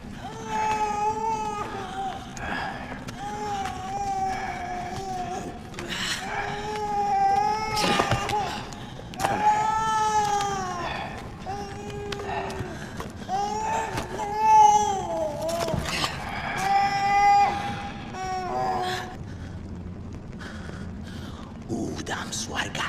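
A baby animal in Far Cry Primal gives repeated high wailing cries, each a few seconds long and rising and falling, heard close up over game ambience while a voice talks now and then.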